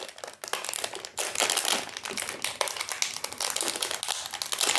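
Plastic wrapping being crinkled and pulled open from sealed Halloween lollipops, a steady close crackling that runs continuously with sharp rustling bursts and no talking.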